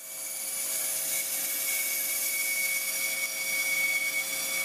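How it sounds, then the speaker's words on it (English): A bandsaw cuts a groove into a metal piece meant for an I-beam, a steady high-pitched rasping whine that carries on continuously at close range with no talk. "So I'm going to do that right in this groove here with the bandsaw."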